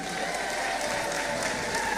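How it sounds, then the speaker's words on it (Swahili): Women in an audience at a university event clap together in a dense, steady round of applause that holds at an even level throughout. "Tujipigie makofi wamama."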